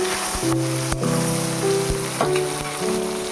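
Spices and ginger fry in a hot pan with a continuous crackling sizzle, broken by a few sharp clinks and scrapes from stirring, close and fairly loud, with no speech.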